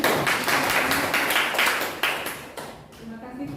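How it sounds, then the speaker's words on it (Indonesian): A small audience at a teacher mentoring session claps together in a short burst of dense, close hand claps that fades out after a few seconds, with faint voices underneath. "Mari kita tepuk tangan semuanya."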